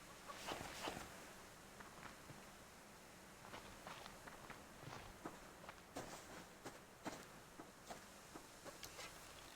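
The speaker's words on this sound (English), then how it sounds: "Chicken." Chickens in the survival game Subsistence, with scattered clucks and short rooster-like calls over steady outdoor ambience, mixed with footstep crunches as a player moves around nearby.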